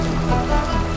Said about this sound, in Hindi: बारिश तो बहुत भयानक है।